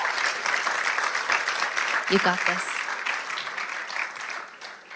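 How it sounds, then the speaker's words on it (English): An audience gives a round of applause, steady clapping running throughout and fading toward the end, while a voice speaks over it briefly. "give her just a hand of applause"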